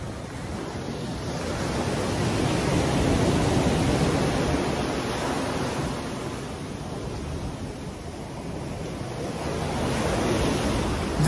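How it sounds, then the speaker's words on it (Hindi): Steady roar of sea surf rolling onto the beach at Maya Bay, Thailand, with broad washing swells rising and falling continuously, close and fairly loud with no voices. "आपको खाली यहाँ पे पानी की आवाज सुनाई देगी,"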